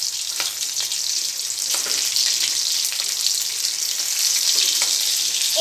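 Garlic fries in hot oil while a ladle stirs and chops it, giving a loud, steady crackling sizzle with light scraping clicks throughout and no talking.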